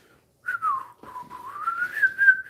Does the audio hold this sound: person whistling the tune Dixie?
yes